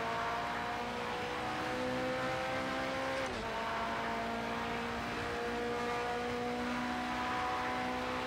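Porsche 919 Hybrid race car accelerating hard at Le Mans in Project Cars 2, a steady high engine whine with rising tones and a brief gear-shift dip midway, continuous and fairly loud without talk.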